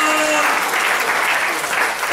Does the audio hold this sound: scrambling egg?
no